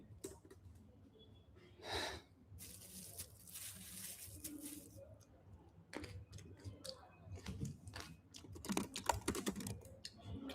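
Typing on a computer keyboard during a coding contest session, with rapid irregular bursts of close key clicks and a few louder clustered strokes, fairly quiet and without talk.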